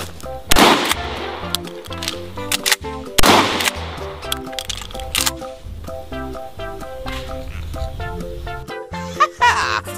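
A toy shotgun fires electronic blast effects: two loud bursts mixed with jingly synthetic tones and beeps that continue between and after the shots.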